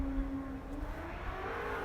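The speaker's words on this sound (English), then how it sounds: "It sounds like a car, actually." A car passes at a distance on a stormy day, with a rising then falling engine whir over steady wind-like background noise, faint and brief.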